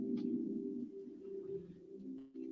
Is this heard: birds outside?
yes